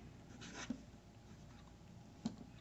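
A Jinhao X159 fountain pen nib writes on paper in a quiet room, giving two brief, faint scratchy strokes with soft low rustle between them.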